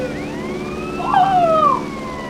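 A fire engine siren from the video game GTA San Andreas wails in a rising and falling sweep, loud and close, with no talk over it.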